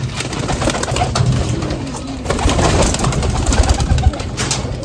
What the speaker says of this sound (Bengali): সব পায়রা বাইরে বের করে দিলাম